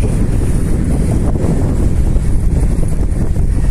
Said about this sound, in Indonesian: anginnya kencang goesnya jadi agak sedikit terhambat